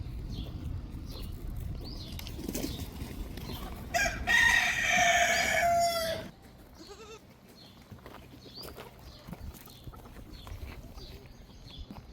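A rooster crows once, loud and long, amid quieter clucking and scattered farmyard noises outdoors at Nizwa Fort in Oman, where chickens and sheep are kept.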